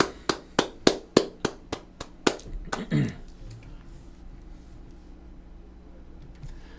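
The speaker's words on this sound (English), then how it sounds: "Let's give Jeff a round of applause" A few hands clapping during an animation critique webcast, roughly ten loud, evenly spaced claps close by, then trailing off into quiet room noise.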